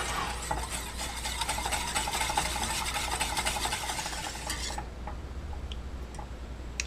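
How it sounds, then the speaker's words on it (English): A whisk beats cocoa ice cream base in a pot, a rapid, steady metallic ticking and scraping close by that stops abruptly near the end, leaving faint clinks. "The cocoa powder will form way more clumps, so you do need to whisk this one a lot more."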